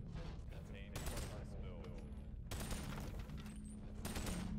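Bursts of enemy gunfire in the VR game Boneworks, several sharp volleys separated by short gaps, loud and close, with a player talking between shots.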